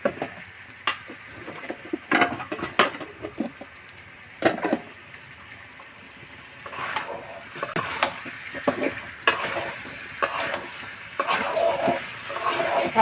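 A spoon scrapes and clinks in a pot while free-range chicken curry fries, giving irregular stirring bursts over a soft sizzle, close and fairly loud.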